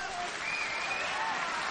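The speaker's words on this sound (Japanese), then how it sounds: "大きな拍手を送ってください" Steady applause from the audience at a Japanese super lightweight title boxing match, honoring boxer Hiranaka; dense, even clapping fills the whole stretch, with faint voices beneath it.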